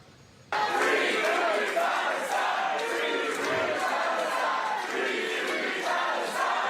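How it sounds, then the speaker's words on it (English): A crowd at a New York Democratic victory speech chants for a free Palestine, loud rhythmic massed voices starting abruptly and continuing steadily. "her crowd kicked off with chants of a free Palestine"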